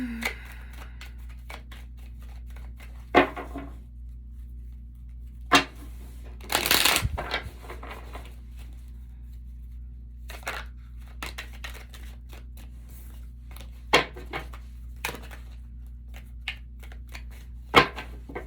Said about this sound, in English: I think I got the right shuffle for Capricorn.